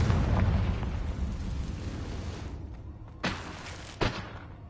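A Confringo spell explosion in Hogwarts Legacy: a rumbling blast decays over a couple of seconds, then two short sharp pops follow, with no talk.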